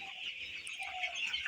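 Broiler chicks seventeen days old cheep and peep softly in a poultry shed, a faint continuous chatter of many small birds.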